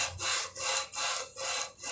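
A Vario 125 cylinder head is sanded by hand on sandpaper glued to a sheet of glass, making loud, rasping strokes in a steady back-and-forth rhythm of about four passes, with no talking.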